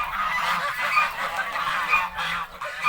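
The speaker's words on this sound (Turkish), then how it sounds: "Kazlar da geldi biraz onlar da şey yaptılar. Bak orada kazlar da." Several geese honk repeatedly in a noisy, overlapping chorus, close by and fairly loud, with no talking.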